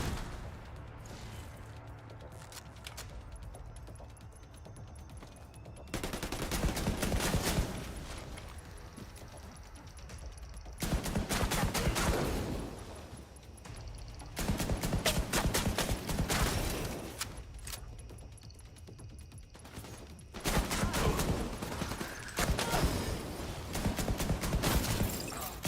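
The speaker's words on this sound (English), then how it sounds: "I'm getting shot in the back" Repeated bursts of gunfire from The Division 2 video game erupt in loud stretches, broken by quieter gaps, with no talking over them.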